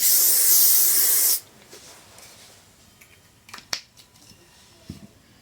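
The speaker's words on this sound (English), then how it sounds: "Hairspray." A loud, steady hairspray aerosol hisses for about a second and a half, then stops, leaving a quiet room with a few faint clicks.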